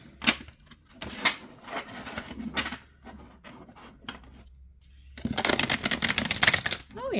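Astrology oracle cards are shuffled by hand, giving bursts of papery riffling and slapping with short pauses between, then a longer, denser flurry of shuffling near the end.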